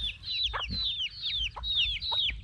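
Young backyard chickens peep and cluck close by in repeated high, chirpy calls with short lower clucks between, moderately quiet with faint ambient hum and no talk.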